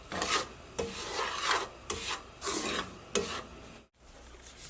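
Semolina with cardamom powder being roasted and stirred in a pan for panjiri: a steady scraping, rubbing sound of a spoon pushing dry grains around, in repeated strokes, close and fairly soft, with no talking.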